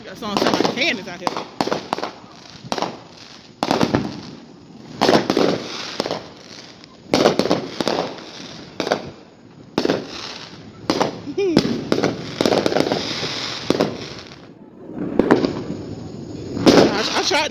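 Fourth of July fireworks and firecrackers bang and crackle outside in dense, repeated volleys of sharp bursts, some close and loud, with cannon-like booms mixed in and people talking between blasts.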